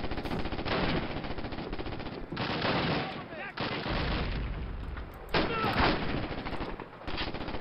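Gunfire in the World War II shooter Call of Duty: United Offensive during a town assault: loud, sustained machine-gun bursts rattle almost nonstop, with short breaks between volleys and heavy booming shots mixed in.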